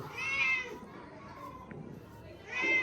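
A thin, hungry mother cat meows twice, at the start and again at the end, fairly close, with voices and background chatter in between.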